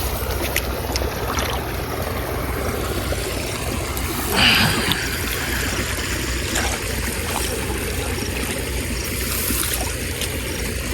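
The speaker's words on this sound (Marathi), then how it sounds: "पाणी वळून घेतोय मित्रांनो इकडे जरा" Irrigation water flows and trickles into a muddy farm field during rainy season, a steady close watery rush with a brief louder splash midway.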